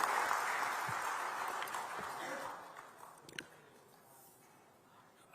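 Audience applause at the inauguration of a Tech Mahindra digital delivery center in Nagpur, welcoming Devendra Fadnavis; clapping fades from moderate to faint over a few seconds, with a sharper sound near the end.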